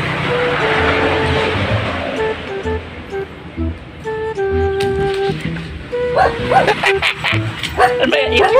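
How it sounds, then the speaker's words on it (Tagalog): Several dogs bark and yip around an outdoor spot in Tuburan, sharp repeated barks overlapping in bursts, loudest toward the end, mixed with a steady background rumble and occasional talk. "Ang daming aso mga kachika. Ang daming aso."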